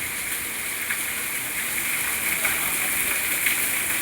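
Heavy rain in Kurnool falls in an even, steady hiss, a constant close wash of sound with no break.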